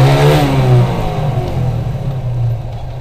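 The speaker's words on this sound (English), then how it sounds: "And here the bike sounds very awesome." A motorcycle engine revs hard in a narrow street, a loud near rising-and-falling roar that holds for about three seconds with steady throaty harmonics.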